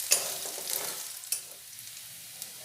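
Finely minced garlic and ginger stir-fried in a pan for chicken chowmein, a short burst of close sizzling with a couple of sharp spatula scrapes, then fading to a quieter hiss.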